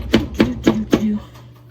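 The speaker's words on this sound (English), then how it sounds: "So I'm just chopping the garlic." A knife chops garlic on a cutting board with four quick, evenly spaced knocks, close and crisp, followed by a quiet pause.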